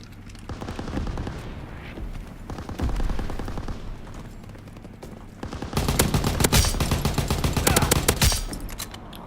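Automatic fire from an FG 42 rifle in Call of Duty: WWII, sustained bursts of loud, rapid shots that intensify into a dense, continuous volley near the end.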